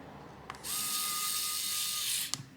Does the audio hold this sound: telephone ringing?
no